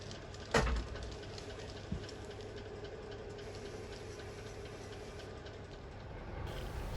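Model railway train rolling into a station platform in a layout of Dawlish Warren circa 1963, a low continuous rumble and hum with a sharp click near the start, no voices.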